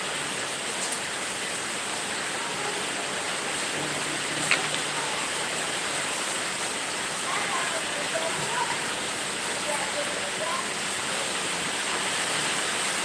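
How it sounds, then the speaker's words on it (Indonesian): Heavy morning rain in Jakarta falls as a steady, even hiss of dense drops spread across the scene, constant at moderate loudness with a faint brief knock partway through and no voices over it. "Hujan deras nih guys."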